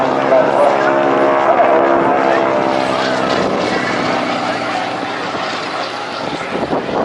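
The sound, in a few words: aircraft flying in an aerobatic display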